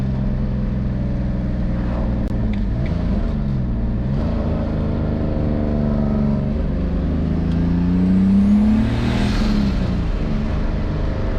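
Rebuilt turbocharged BMW E46 pulling hard in second gear, heard from inside as a loud continuous engine drone whose pitch sweeps up steadily with one brief dip, rising toward the end, no voices.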